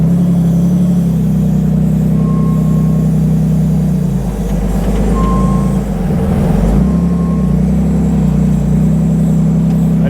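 A rear-steer buggy maneuvering over rocks on a Sand Hollow trail, its engine droning in a loud steady hum that dips and strains briefly mid-way, with faint short beeping tones over the top and no talking.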